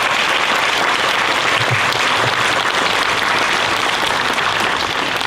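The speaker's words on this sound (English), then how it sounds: "Can we get a round of applause for the groups?" A crowd applauds the honored groups at an outdoor Flag Day monument dedication and ribbon cutting in Batavia. The clapping is dense, loud and unbroken, a continuous wash of sound through the whole clip.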